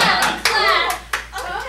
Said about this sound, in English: Don't clap quite as much as you're clapping!